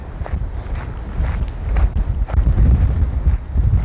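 Strong wind on an exposed mountain ridge along the Arizona Trail, a steady low roar buffeting the microphone with gusty surges, loud and close, with no voices.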